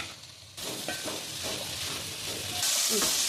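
Tomato, coriander, mint and curry leaves fry in a pan for vegetable biryani, giving a steady close sizzle with stirring scrapes that grows louder and hissier toward the end, with no talking.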